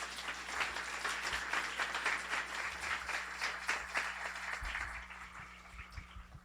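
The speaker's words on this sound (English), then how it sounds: "let's get a round of applause" At a guide dog graduation ceremony, a room full of people applauds the Canine Development Center staff, with steady, even clapping that slowly fades toward the end.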